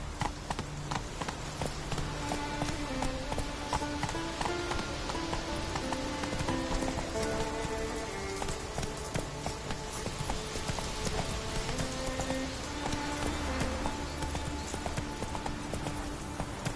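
The horse Roach gallops in The Witcher 3, a continuous rapid clip-clop of hooves under steady game music with a rain-like hiss, running for the whole stretch without speech.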